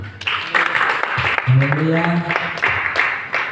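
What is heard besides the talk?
congregation clapping hands for God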